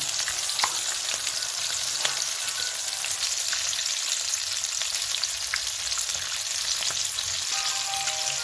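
Chicken wings fry in a pan, a loud, dense, continuous crackling sizzle with occasional small pops.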